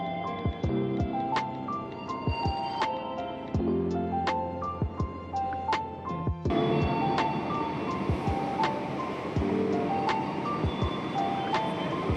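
Interior of a moving KA Cikuray passenger train carriage: a steady rumbling drone carries throughout, with repeated sharp clanks and knocks and a shift to a brighter, noisier rattle partway through.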